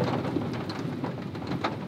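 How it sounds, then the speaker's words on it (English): Steady rain falling at a New York state park campsite during a thunderstorm, a soft continuous patter with low rumbling thunder underneath and a few faint higher sounds, no voices. "It's thundering and lightning. Can you hear it?"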